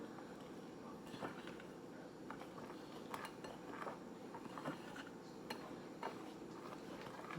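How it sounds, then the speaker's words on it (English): Quiet, steady stirring of a sand slime mixture in a bowl, with light scraping and occasional small clinks of the utensil against the bowl, heard close and faint over a low background rumble. "we're going to gently stir because we don't want to make a huge mess with this powder"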